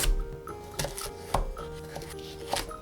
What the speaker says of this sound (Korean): 당근 3분의 1 토막 80g은 길게 잘라줍니다